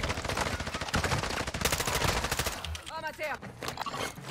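Rapid automatic gunfire in the Modern Warfare 2 DMZ mode, loud dense bursts of shots filling the first half, then sparser shots as a voice speaks briefly in the background.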